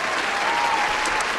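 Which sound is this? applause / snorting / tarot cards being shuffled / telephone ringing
applause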